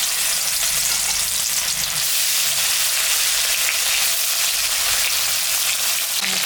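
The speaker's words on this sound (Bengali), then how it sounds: "তেলটা গরম হয়ে গেছে, মাছটা এখন আমি ভাজি।" Pieces of fish fry in hot oil in a pan for a home-cooked fish curry, giving a loud, continuous hissing sizzle with a fine crackle that holds steady throughout. No one speaks.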